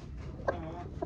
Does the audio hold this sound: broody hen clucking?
yes